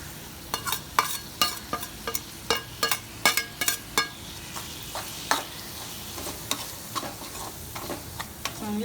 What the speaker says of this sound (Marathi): आता मी याच्यावर मसाले टाकते.